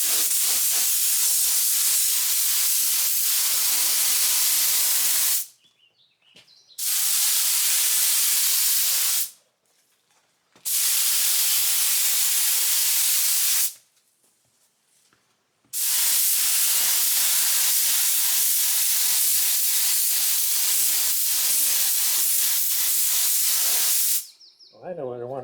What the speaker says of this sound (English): One seems to be spraying okay.